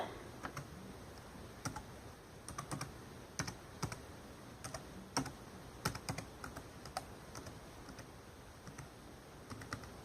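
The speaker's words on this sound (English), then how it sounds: "Now I gotta type in my super duper long password." A long password tapped out on a Dell laptop keyboard: light, close keystroke clicks come in quick irregular bursts with short pauses, soft against a quiet room.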